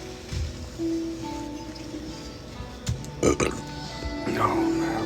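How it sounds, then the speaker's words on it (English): A person lets out a couple of short burps after a restaurant meal, with conversation going on around them. "Excuse me, buddy. I just burped."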